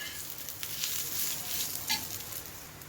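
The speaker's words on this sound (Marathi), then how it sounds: "थोडं मी तेल टाकलं आहे म्हणून म्हटलं थोडा परत चांगलं परतून घेऊया व्यवस्थित" Masala paste with added oil sautéing in a pan for a black-masala egg curry, giving a steady soft sizzle with faint stirring scrapes throughout.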